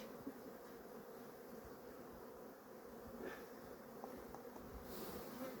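Honey bees shaken off hive frames fly around during colony merging, a steady dense buzzing drone that stays at even level throughout, with no voices.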